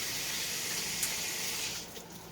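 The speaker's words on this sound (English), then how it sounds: "gotta wash my hands again" Tap water runs steadily into a kitchen sink during hand washing while cooking, a continuous close hiss that eases slightly toward the end.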